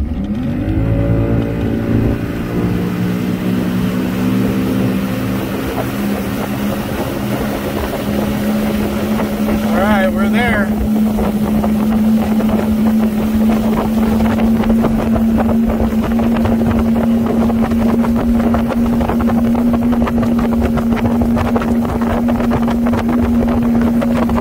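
A motorboat fitted with a new 10.5 x 13 propeller accelerates from idle onto plane: a loud outboard engine drone climbs steadily in pitch, then holds a strong, even whine over rushing water and wind for the rest of the run.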